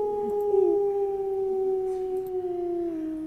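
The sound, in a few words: dog howling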